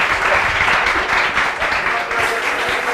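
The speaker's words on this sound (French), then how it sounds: "Je vous demande de nous applaudir très fort" A crowd at a champions' celebration breaks into loud, dense applause, continuous close clapping filling the space with no pauses and no talking.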